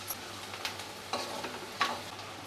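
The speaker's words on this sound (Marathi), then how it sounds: "आता यामध्ये आपण ठेचलेला लसूण घालूया, थोडंसं आपल्याला परतून घ्यायचं आहे" Crushed garlic sautéing with softened onion in a pan, giving a low steady sizzle with a few soft stirring scrapes and clinks spread across the stretch, close by and with no talking.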